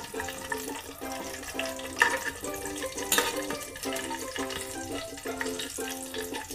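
Cinnamon pieces, bay leaf and cashews sauté in hot oil in a pan, giving a steady close sizzle with faint stirring, while music plays in a repeating pattern over it.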